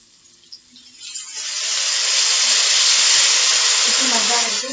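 Water poured into eggplant frying in a pan sets off a hiss that swells within a second or two into a loud, sustained sizzle, close and steady, with faint crackles underneath.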